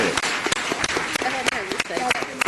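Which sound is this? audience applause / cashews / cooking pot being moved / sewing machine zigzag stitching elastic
audience applause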